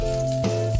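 Oil and butter heat in a frying pan, giving a brief, dense, steady sizzle up close for under a second, with no talking.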